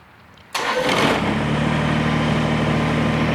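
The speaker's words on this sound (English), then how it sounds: "You're gonna start your tractor." A Kubota BX compact tractor's engine cranks briefly, catches, and settles into a steady, loud mid-pitched idle close by, no talking.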